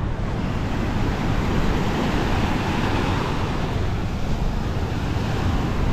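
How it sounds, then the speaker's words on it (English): Ocean waves wash steadily onto Narathiwat Beach in Thailand, a dense, continuous roar of surf mixed with wind buffeting the microphone, loud and unbroken throughout with no voices. "The waves crashing behind me, it's quite relaxing."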